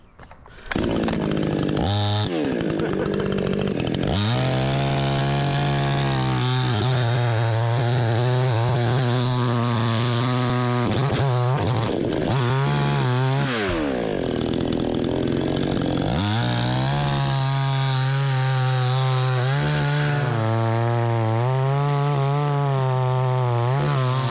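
A budget $159.99 chainsaw bucking firewood roars loud and close, its engine bogging in pitch as the chain bites through wood and revving back up between cuts, running nearly nonstop.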